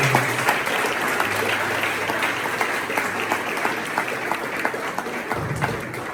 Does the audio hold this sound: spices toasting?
no